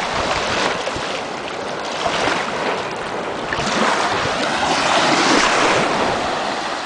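Ocean waves wash steadily onto a beach at Destin, a continuous close rush of surf mixed with wind buffeting the microphone, with no talking.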